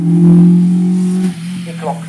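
A Hillman Imp at a hill climb drives past with a loud, steady engine drone that fades after about a second as the car moves off, with a commentator talking over it.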